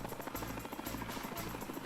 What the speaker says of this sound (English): Okay, here we go. Helicopter time,